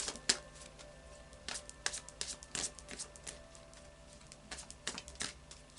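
Quiet clicking and soft slapping of cards being shuffled, a string of quick crisp taps in uneven rhythm.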